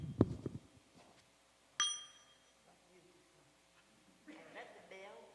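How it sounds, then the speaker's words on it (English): At a dharma retreat, a single mindfulness bell strike rings out bright and clear, its tone decaying gently between stretches of someone speaking. "If I invite the bell like that"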